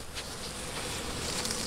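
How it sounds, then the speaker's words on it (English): Honey bees hum busily around a WBC hive in early spring, a steady, close buzzing swarm with no break across the brief moment. "Now these are Paddy's nasty bees, and they got about 80 pounds of honey last year"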